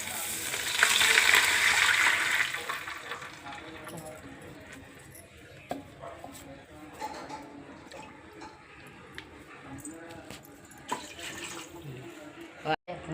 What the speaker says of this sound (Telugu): ఉప్మాకి పోపులు ఎగేయండి ఇప్పుడు వాటర్ వేస్తున్నాను చూడండి